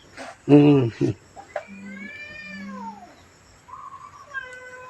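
A small kitten meowing repeatedly at a temple in Lampang, Thailand, thin wavering cries close by, with a voice speaking briefly over the start.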